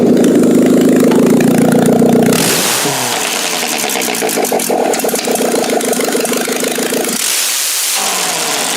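A car engine runs after a quick repair, loud and close, with a rougher rev at the start before it settles into a steady, even idle.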